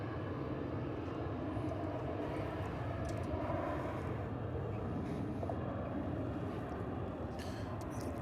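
An American Airlines Airbus A321 airliner at Dallas/Fort Worth Airport gives off a steady, distant jet roar that stays broad and even across the whole stretch, with no voices.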